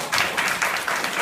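Brief, dense applause from a lecture audience, a continuous wash of many hands clapping at moderate loudness.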